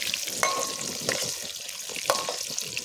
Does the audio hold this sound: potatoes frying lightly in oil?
yes